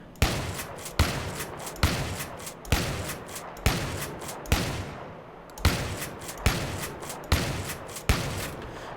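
A SPAS-12 shotgun in Battlefield 3 fires about nine loud, booming shots at a steady pace of roughly one per second, each with a short decaying tail and one slightly longer gap midway.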